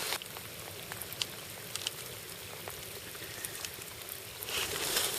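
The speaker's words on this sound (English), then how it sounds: "So it's just relentless rain." Relentless rain while touring on a Suzuki GS125 motorcycle, a steady dense patter of drops with scattered sharper hits, a constant wet hiss that swells slightly near the end.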